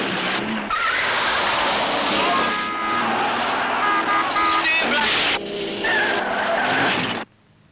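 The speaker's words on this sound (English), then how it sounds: "film sequence of car racing on ice" Cars race on ice at an Alpine winter circuit in Lauterbrunnen, tires skidding and squealing loudly over roaring engines in a continuous, shifting burst that stops abruptly at the end.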